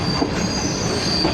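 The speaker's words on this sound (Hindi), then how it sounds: "दोस्तों 9:32 और फैसलाबाद पहुंच रही है ट्रेन।" The Shalimar Express pulls into Faisalabad station with a loud, steady rumble of rolling wagons and a thin, sustained squeal from the wheels, heard up close with no voices.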